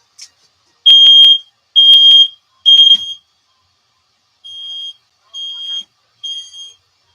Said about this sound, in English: smoke detector works. It scares me every time.